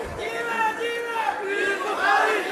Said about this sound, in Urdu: چھوڑیے نعرے نہ لگائیے